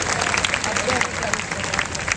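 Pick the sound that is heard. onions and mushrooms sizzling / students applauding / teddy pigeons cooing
students applauding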